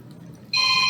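A mobile phone suddenly starts ringing partway through, a loud, steady electronic ringtone tone cutting in after a half second of quiet room noise and holding on to the end.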